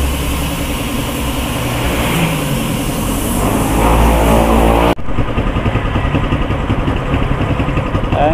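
A motorcycle-powered tricycle engine runs close by at a motor shop, a loud continuous rough drone with a fast throbbing pulse that carries on unbroken, with no talking over it.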